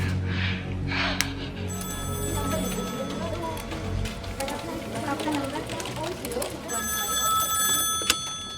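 A telephone bell rings in repeated bursts, clearly at the start and again near the end, over a busy indoor scene from a Hindi action film.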